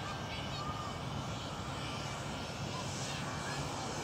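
A steady, broadband roar of an airplane engine drones continuously, heard as from inside the aircraft at constant loudness, with no distinct talk.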